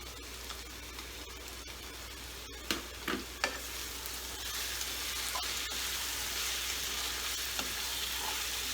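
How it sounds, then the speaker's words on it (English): Grilled brinjal going into a hot pan for begun bhorta brings a soft, continuous frying sizzle, with a few sharp utensil knocks early on and no talking. "So it's time to add the grilled brinjal."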